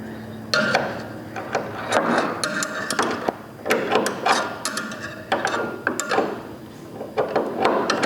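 A wrench ratcheting against a bolt while a saw fence is locked in place, a fast run of close clicking and clattering metal bursts with short pauses between strokes.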